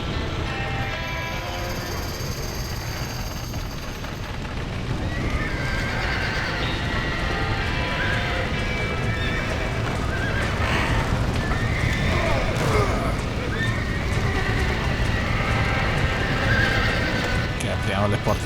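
Horses neigh and whinny while hooves clip-clop in Red Dead Redemption, near a barn with a storm coming. The sound is steady and fairly close, and voices speak over it throughout.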